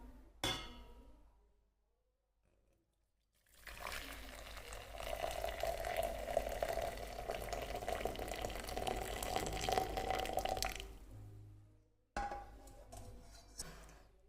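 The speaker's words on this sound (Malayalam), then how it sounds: "ഈ വെള്ളം വേറൊരു കപ്പിലേക്ക് മാറ്റാൻ പോവാണ്." Boiled water is poured from one cup into another, making a steady liquid pour that runs about seven seconds between quiet stretches, with faint clinks before and after.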